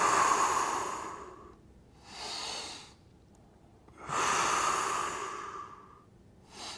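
Deep, audible breaths in and out during a dynamic adductor groin stretch, in slow alternating bursts roughly every two seconds, close and clear with no talking.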